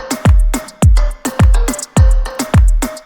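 A tropical reggaeton beat playing without its bass line: crisp, loud percussive hits in a steady syncopated dembow-style pattern with a thin tonal element, clean and upfront.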